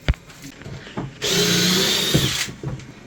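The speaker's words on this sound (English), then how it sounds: "undo those two screws down there" A power driver whirs steadily for about a second and a half, backing out screws holding a board in a flooded homemade bunker, with scattered knocks and handling noise before and after.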